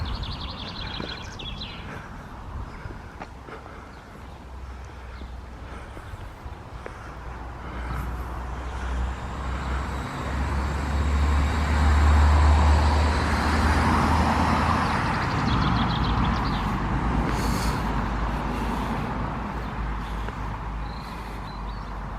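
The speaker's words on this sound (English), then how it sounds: "Nice to hear the birds in between the noise of the traffic." Birds sing near Washford Station on the West Somerset Railway while road traffic rumbles past, with a vehicle swelling loud in the middle and faint chirps threading through the steady roadway noise.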